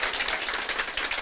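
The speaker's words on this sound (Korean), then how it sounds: "여러분을 위해서 박수 한번 보낼게요." Fairly quiet clapping comes in quick, uneven bursts from an audience at a business presentation, lasting just over a second.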